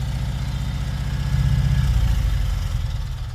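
A Cushman Truckster engine idling after a carburetor swap, a steady low chugging rumble with a slightly uneven beat, close and fairly loud, rising a little midway before settling.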